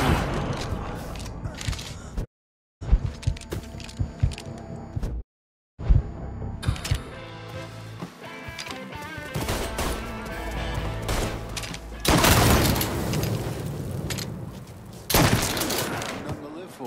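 A Mafia III shootout brings loud bursts of rapid gunfire, with a couple of abrupt silent gaps early on, then dense sustained volleys and heavy impacts while voices speak over the action.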